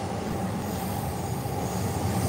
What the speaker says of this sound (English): Train. Walking below the tracks right now.